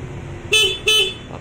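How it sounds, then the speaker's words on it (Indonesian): Two short, loud beeps from the horn of a Suzuki Satria Hiu motorcycle with a newly replaced full body wiring harness, sounding close over a faint idling hum. "Ini klakson"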